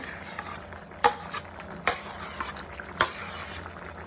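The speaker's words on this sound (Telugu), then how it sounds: "ఈ పప్పుని ఉడుకుతున్న టమాటాల్లో వేస్తున్నానండి" Boiled toor dal goes into a pan of bubbling tomatoes, giving a soft, steady simmering sizzle broken by a few sharp spoon clacks against the pan.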